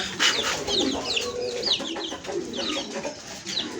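Brahma hen clucking among other chickens and chirping birds in a farmyard, a steady stream of short close clucks and calls without any talk.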